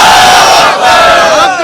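Large crowd at an Islamic religious gathering in Narowal roaring a loud, sustained collective shout in answer to a slogan, a dense wall of many voices lasting the whole moment without pause.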